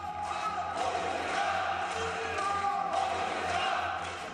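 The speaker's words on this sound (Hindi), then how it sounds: "ये नारे प्रधानमंत्री का अभिनंदन है।" Members in the Lok Sabha chamber raise slogans and shouts for the Prime Minister, a sustained roar of many voices over ongoing clapping, loud and even throughout.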